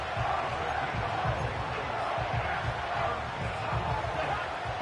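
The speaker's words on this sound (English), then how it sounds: "This crowd into it now as we get to 3rd down." Steady stadium crowd roar from the Madden 25 football video game, a dense continuous wash of voices with low rumbling murmurs, loud and unbroken throughout.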